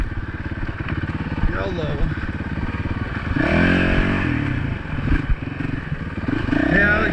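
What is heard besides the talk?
motorcycle riding on off-road OHV trail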